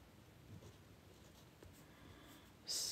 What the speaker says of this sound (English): I'm going to write something down right now.